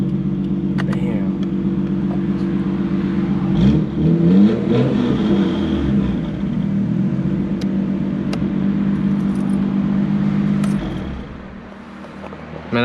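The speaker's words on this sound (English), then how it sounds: "I love the sound of this exhaust" A Nissan Skyline R32 GT-R's engine and exhaust rumble steadily up close and rise into a rev midway before easing off. There is no talking.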